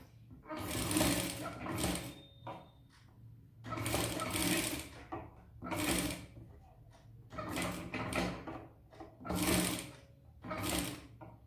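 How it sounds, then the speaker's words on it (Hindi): Sewing machine stitching blouse fabric for a three-piece princess blouse, running in repeated bursts of steady whirring roughly every two seconds, close and clear with no talk. "आधा आधा इंच की दूरी पे हमें स्टिच करना है, क्योंकि हमने अपने सिलाई का मार्जिन उतना ही रखा है।"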